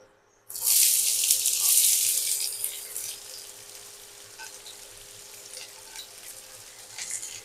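Onions and cumin seeds are dropped into hot oil in a pan, bursting into a loud, sudden sizzle that gradually settles into a steady, softer frying hiss with no voices.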